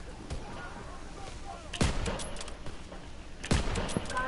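Gunfire in a shooter video game, two sharp loud bursts standing out over a busy background of game sounds and scattered lighter shots, with faint voice-like sounds in places.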